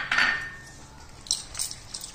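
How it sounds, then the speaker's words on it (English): A spoon mixes Mysore matar bonda batter made with flour and baking soda, giving one brief scraping swirl followed by a few soft taps and clinks against the bowl, close and fairly quiet. "Mix it properly."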